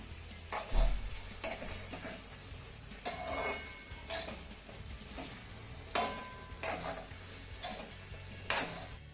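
A spoon scrapes and knocks against a pot of green beans cooking with dough dumplings, giving about half a dozen sharp, spaced clinks over a faint simmering hiss in a quiet kitchen.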